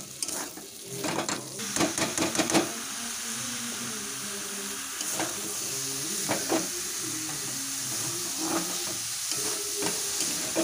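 Boiled banana flower and moong dal sizzle and hiss steadily in a pan while a utensil scrapes and stirs with intermittent clinks, close and continuous without talk.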